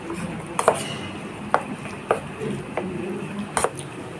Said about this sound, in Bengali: এখন একসাথে মিক্সড করে নেব।